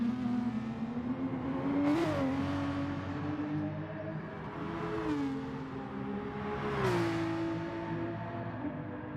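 A Porsche Gr3 race car in Gran Turismo screams around the Nurburgring, its engine rising and falling through three clear rev sweeps as it slides on worn tyres; loud and close, with no talk.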